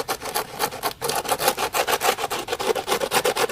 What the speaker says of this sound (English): I have a little piece of sandstone here, okay? And I've just been going through, scraping all the mud that was on it off.